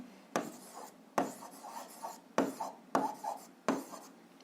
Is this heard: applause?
no